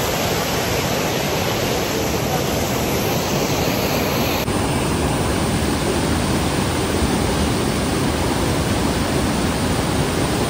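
Arbi Falls waterfall roars close and loud, a constant broadband rush of falling water that fills the whole stretch without pause.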